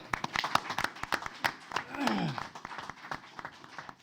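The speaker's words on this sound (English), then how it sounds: "So let's give him a round of applause." Scattered applause in a city council meeting room: a loose spatter of individual claps over about four seconds, fairly quiet, mixed with voices and room noise.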